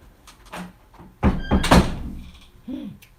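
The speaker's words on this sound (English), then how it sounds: "Shut the door." An indoor door pushed shut at home, a few dull thunks and a firm closing knock in quick succession, with faint voices before and after.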